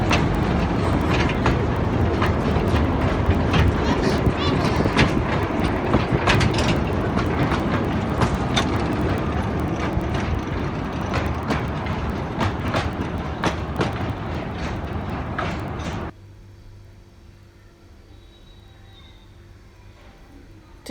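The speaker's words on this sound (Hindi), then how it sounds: "वो देखिए सामने से जॉय ट्रेन आ रही है।" Joy train at the National Rail Museum in Delhi rolling past with a loud, continuous rumble and rhythmic clickety-clack of wheels for about sixteen seconds, then cutting off to quiet background.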